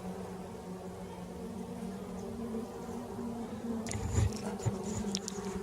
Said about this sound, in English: Bees crawling over my hands, over my legs.